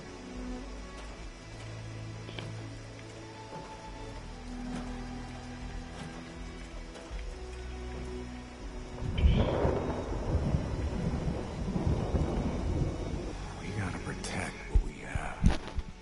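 Rain and thunder weather in the video game Fallout 76: a steady low wash of rain, then from about nine seconds a louder, crackling rumble of thunder that rolls on, with a few sharp cracks near the end.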